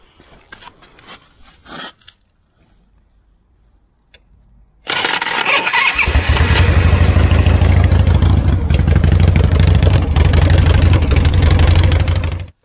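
A custom Harley-Davidson Shovelhead motorcycle is kick-started a few times, then fires up and settles into a loud, steady, rumbling idle.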